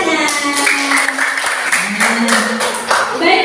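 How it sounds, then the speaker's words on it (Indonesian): A classroom of children claps, a dense steady round of applause from many hands nearby, with voices calling and chattering over it throughout. "Tepuk tangan."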